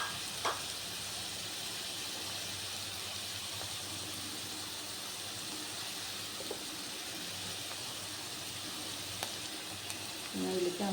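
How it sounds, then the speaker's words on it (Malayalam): Sliced onions sizzle in hot oil with salt added, a steady soft frying hiss running throughout with a few faint clinks and stirring scrapes, quiet and close. "സബോളയ്ക്കൊപ്പം എണ്ണയിലേക്ക് ഇട്ട് കഴിഞ്ഞാൽ സബോള മൂത്ത് കിട്ടും."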